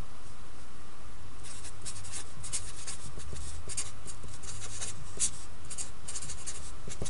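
Marker or chalk scratching across a classroom board while a line's slope is being worked out, a steady run of short writing strokes with faint scraping and shuffling, close and fairly quiet with no talk over it.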